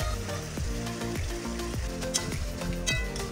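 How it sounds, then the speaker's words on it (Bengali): Ground spice paste sizzles steadily in a pan as masala is cooked down for Bengali chicken chaap, a continuous close frying hiss broken by a few faint utensil clinks, with no speech. "মশলা দেওয়ার পর ওই জল দিয়েই আমি মশলাটা ভালো করে কষিয়ে নিচ্ছি"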